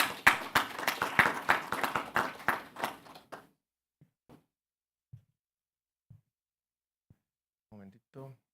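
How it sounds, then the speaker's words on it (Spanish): Audience applause breaks out at a residents' competition, a few seconds of close, rapid clapping that quickly thins out into sparse claps and near silence, with a voice briefly speaking near the end. "Un aplauso."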